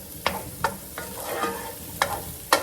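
Baby portobello mushrooms sweating in a pan, with a soft, low sizzle under five or six sharp scraping stirs spaced about half a second apart, close by and fairly quiet.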